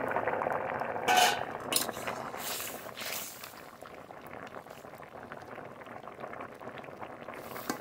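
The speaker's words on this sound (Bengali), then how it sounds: "ঢেকে খুব ভালো করে সিদ্ধ করে নেব।" A covered pot of taro and rohu fish curry bubbles steadily with a dense, continuous boiling rumble, a brief metallic clink and lid rattle near the start, then settling into an even simmer close by.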